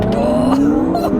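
A Honda NSX and an Audi TT RS launch side by side in a drag race, a brief loud burst of rising engine revs with a faint tire chirp, heard up close.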